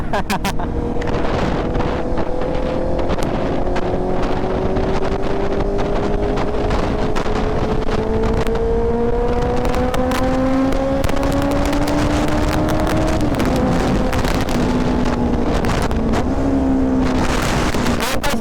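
Honda CB650R engine under way, rising steadily in pitch as it revs, then dropping sharply with a downshift before climbing again, heard from the rider's position with constant wind rush.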